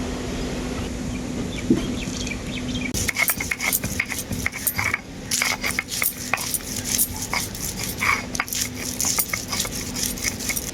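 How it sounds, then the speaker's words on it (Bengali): Ginger and garlic are being ground into paste on a stone, producing repeated rhythmic scraping and knocking strokes, loud and close, with a rooster or hen clucking faintly early on. "এরপর আমি মাছের ঝালের জন্য আদা রসুনটা বেটে নেব"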